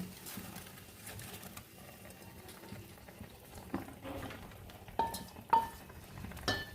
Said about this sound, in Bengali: এই যে এটা ফুটে গেছে খুব ভালো করে ফুটে গেছে